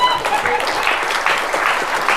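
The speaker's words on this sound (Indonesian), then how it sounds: "tepuk tangan buat mami kita" Steady applause from a group, clapping continuously for a couple of seconds with no break.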